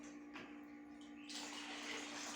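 Water runs steadily from a tap, with a brief splash early on and the flow growing louder and fuller after a second, with no voices.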